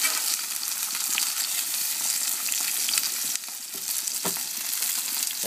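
Salmon sizzles loudly on a smoking-hot oiled skillet heated to 700 degrees, a dense, steady crackling hiss that runs unbroken and close throughout.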